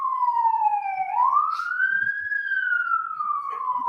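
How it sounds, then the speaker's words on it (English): Police siren wailing steadily, rising and falling in a slow sweeping tone, loud and clear with no talk over it. "I'm just letting the siren go on"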